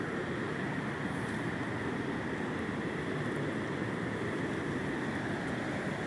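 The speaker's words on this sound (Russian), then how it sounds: "Знаменитая Гималайская река." A Himalayan river in the Kullu Valley near Manali flows past as a steady, broad roar of rushing water, constant and unbroken, with no voices heard.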